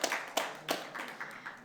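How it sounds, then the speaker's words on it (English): Applause breaks out for a speaker at an investment fund seminar, a few bursts of hand clapping that swell briefly and then fade, fairly distant and thin, with no voices over it. "Let's give him a round of applause, please."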